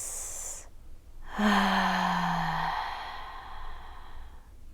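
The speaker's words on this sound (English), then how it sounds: "let's take a deep breath in through your nose and release" A slow, deep breath drawn in through the nose, then a long audible release of air, close and quiet, heard alone.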